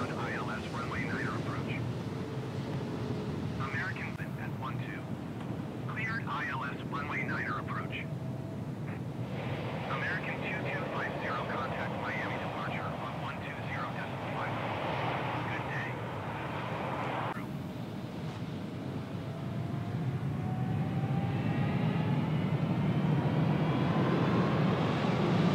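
A Boeing 787 departs runway 8 right at Miami International Airport in the simulator game MSFS 2020: a continuous loud jet roar fills the scene, swelling further toward the end, with faint chirps and whines layered over it.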